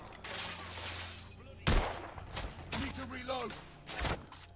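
Gunfire erupts in a shootout in The Order: 1886, played on hard difficulty: a dense fusillade of loud shots, with one sharp heavy blast near the middle and another later, while mechanical clatter and voices run underneath.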